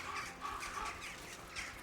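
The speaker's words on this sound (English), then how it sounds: "I wish I could do a crow noise." A crow caws several times in the Kingdom Come: Deliverance II video game, rough repeated calls at a moderate distance over soft outdoor ambience.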